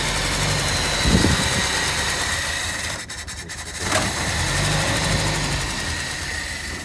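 A Triumph Herald convertible engine, low on fuel, idles with a steady rumble and rattle, close by, briefly dipping in level midway before settling back to its even churn.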